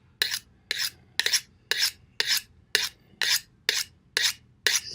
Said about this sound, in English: let's start with a honing steel